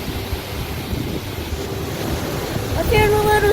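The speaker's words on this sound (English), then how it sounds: "this is the largest of the Whiteoak Canyon waterfalls." The largest waterfall of White Oak Canyon in Shenandoah National Park roars as a loud, close, steady wash of rushing water, with wind buffeting the microphone and a brief tonal sound near the end.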